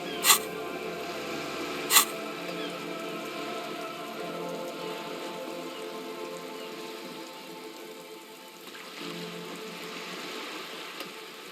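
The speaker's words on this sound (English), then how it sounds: "All around you, rain keeps falling down." Steady rain patters on wooden boards and open water in the video game Disco Elysium, a continuous soft hiss with two brief sharp clicks near the start.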